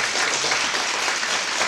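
Applause from a lecture audience at the end of an abstract algebra class, a dense, steady clapping that fills the moment alone and stays even throughout.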